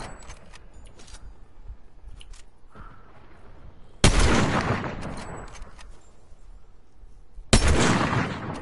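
Gunfire in the Fortnite video game: two loud, sharp shots several seconds apart, each followed by a long, rolling, decaying tail over quieter background game noise, with no talking.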